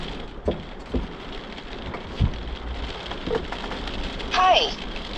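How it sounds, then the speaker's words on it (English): Heavy rain pours steadily during a severe thunderstorm at a rural homestead, with scattered drop impacts close by and a brief voice or sharp sound near the end. "We're having a severe thunderstorm up here"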